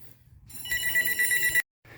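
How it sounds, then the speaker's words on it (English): A telephone rings in a home garage during work on a Chevy Cruze brake booster: one bright, buzzing electronic ring lasts about a second, then cuts off before another begins, with no talking over it. "answer this phone that's ringing"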